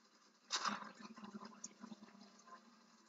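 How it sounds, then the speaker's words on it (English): In the video game Splatoon 2, the water level rises with a sudden rushing surge. It then churns and gurgles for a couple of seconds at a faint, distant level. "Oh, the water just got higher."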